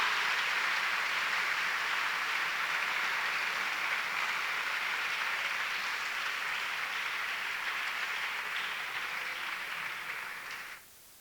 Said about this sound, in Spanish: ¿Alguien tiene un aplauso para Él?